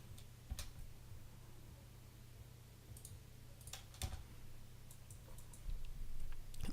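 Computer keyboard key presses and mouse clicks at a desk, sparse sharp clicks and taps scattered over a low steady hum, quiet and close.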